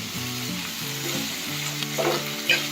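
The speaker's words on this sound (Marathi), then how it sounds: "आता याच्यामध्ये बटाटे टाकते" Diced potato pieces frying in an oiled pan for a simple pulao, a steady close sizzle with light stirring and scraping throughout.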